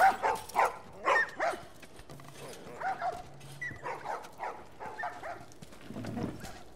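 Several dogs for sale in a holding pen bark and yip in quick, uneven bursts. The barking is loudest at the start and becomes fainter and more scattered, ending with a low whimper.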